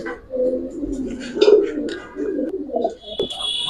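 Giribaz pigeons in a loft coo softly and repeatedly up close, low rolling calls with a few brief chirps near the end, with little else around them.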